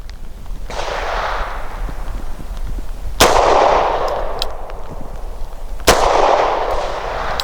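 A Walther P5 pistol fires three loud, close gunshots at targets, each a sharp crack a few seconds apart followed by a broad echoing decay.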